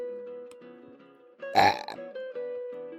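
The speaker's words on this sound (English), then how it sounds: "I burp because I'm afraid of this answer" One loud, close burp rises abruptly over a background of steady musical tones.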